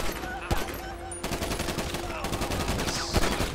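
Video game gunfire in GTA V roleplay sounds in several sharp bursts, including rapid automatic volleys, over a constant background hum and faint game ambience, with no talking.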